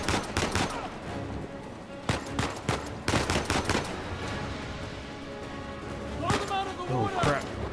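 Gunfire in Uncharted 4 combat: bursts of rapid sharp shots and single cracks in clusters, fairly close, with a voice talking over and between the shooting.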